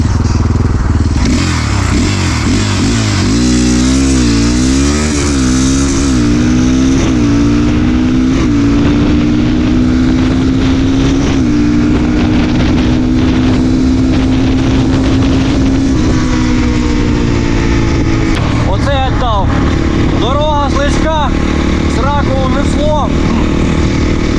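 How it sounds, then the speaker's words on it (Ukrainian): Kovi 250 Advance motorcycle with a ported 172FMM engine accelerating hard, the engine note climbing steadily through gears with brief shift dips, loud and close with heavy wind rush throughout. "Зараз роблю ще один розгін і буду їхати додому потроху"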